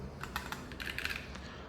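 Keys clatter on a compact Keychron K3 Pro mechanical keyboard paired to a MacBook, a quick run of close, crisp keystrokes in irregular bursts over a low steady hum, with no talking.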